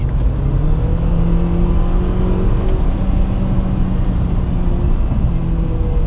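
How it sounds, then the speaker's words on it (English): A 2017 Honda Accord Sport family sedan with a CVT drives and corners on back roads, its engine a steady close droning hum with shifting tonal whine and constant road and tyre noise throughout. "the Honda Accord Sport performs pretty well. Here I am cornering."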